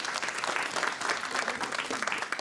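Audience at a live improv comedy show breaks into applause: dense, steady clapping that fills the whole moment at an even loudness, with no voices on top.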